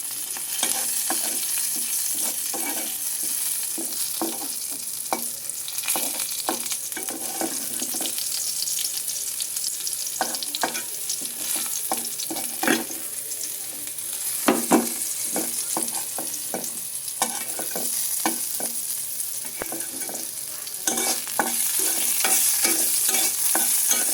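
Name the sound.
frying green chilies in a pan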